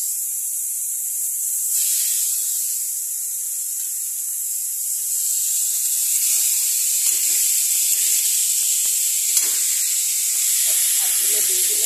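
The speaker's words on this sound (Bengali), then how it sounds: "কড়াইয়ের মধ্যে কালো জিরে দিয়েছি আর হচ্ছে শাকগুলোকে এখানে দিয়ে দিচ্ছি।" Mustard greens tipped into a wok over nigella seeds give a loud, steady hiss of frying and steam, close up, with faint handling knocks near the end.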